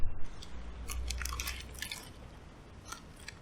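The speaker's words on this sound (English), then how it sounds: "The skin is super crunchy." Crunching bites into crispy-crust fried chicken from a Shanghai shop, a close cluster of sharp crackles followed by quieter chewing, with no talking.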